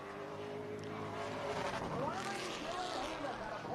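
A race truck in the Midwest Truck Series circles Grundy County Speedway during qualifying, its engine a steady loud roar that swells and shifts pitch as it passes, with an announcer talking over it.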